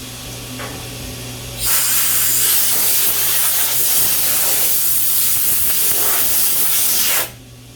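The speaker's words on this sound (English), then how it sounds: "Like I said, a little bit of brake spray." A single long burst of brake cleaner spray, used while finishing a memorial plaque, hisses loudly up close for about five seconds, then cuts off abruptly over a low background hum.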